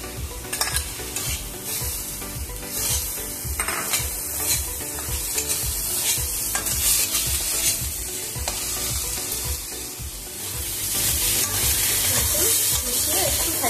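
Eggplant and betho greens stirred and frying in a pan, a steady close sizzle with repeated scraping stir strokes throughout, growing slightly louder near the end.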